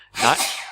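A single sharp sneeze from a person on a tabletop gaming podcast, loud and close, bursting suddenly after a brief quiet moment.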